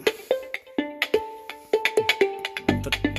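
A song plays through a vintage loudspeaker that was restored after 40 years by reviving its hardened, oil-treated cloth surround. Plucked, bell-like notes come in an even rhythm, fairly close, with a deeper sustained tone entering near the end.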